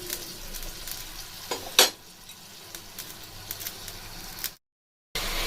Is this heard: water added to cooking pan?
yes